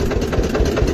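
An Eicher tractor engine idles close by, a steady low rumble with slight rhythmic knocking pulses, continuous and alone throughout.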